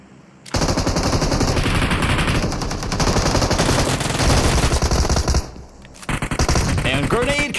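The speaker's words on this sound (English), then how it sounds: "And Diablo trying to use an Uzi." Uzi submachine gun fire in the PUBG Mobile battle royale game: loud, dense automatic bursts that run almost continuously, break off briefly near the end, then rattle on again.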